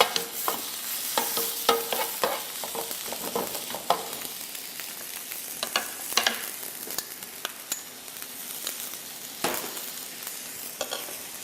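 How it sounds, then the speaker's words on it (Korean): Meat sizzles in a pan while it is stir-fried with gochujang for bibimbap, a steady crackling fry broken by repeated scrapes and clacks of the stirring utensil, close and with no talk. "고기가 뭉치지 않도록 잘 풀어가면서 볶으시다가 고추장과 함께 볶아줍니다."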